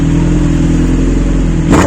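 A vehicle engine roars steadily at full throttle, a loud, sustained droning rev held throughout with a brief rise in pitch and intensity at the very end.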